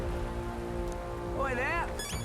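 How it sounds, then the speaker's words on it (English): Steady rain hisses across the scene in the video game Metaphor: ReFantazio, a continuous wet patter under low droning music, with brief wavering melodic and voice-like tones rising over it near the end. "This bloody rain."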